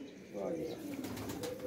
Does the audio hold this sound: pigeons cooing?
yes